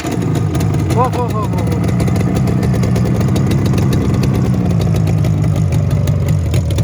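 A Yamaha RD350 two-stroke twin motorcycle engine idles with a loud, steady, close rumble throughout, while a man lets out a few quick excited exclamations over it.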